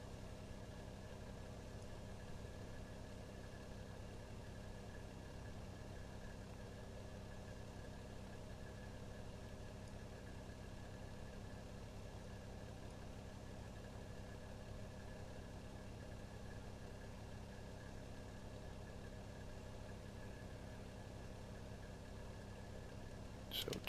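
Airliner jet engine in a flight simulator game, engine one spooling up at start after fuel flow opens: a steady, continuous drone with a low rumble and a faint high whine, holding level throughout without talk.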